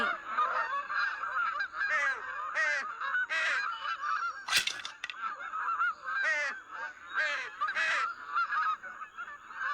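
Geese honk loudly and repeatedly in a close, busy flock, with calls overlapping in irregular bursts and one sharp louder burst midway through.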